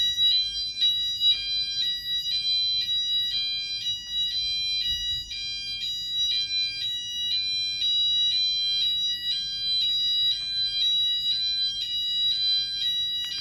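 An indoor fire alarm sounds continuously, a loud, shrill, high-pitched electronic beep pulsing in a steady repeating pattern with no talking.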